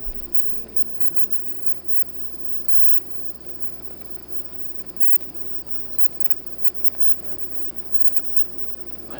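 A pot of water boils on a stovetop while Pulmuone doenjang stew ramen cooks, a faint, steady bubbling hiss that continues evenly with no talk.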